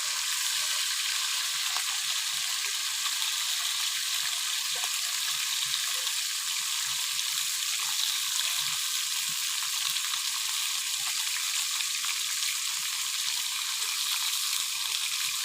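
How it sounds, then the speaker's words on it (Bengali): Fish fries in oil in a pan, a steady, dense sizzle with faint crackles running evenly throughout, close and without any talk. "এই দেখুন বন্ধুরা মাছ ভাজা কেমন হচ্ছে"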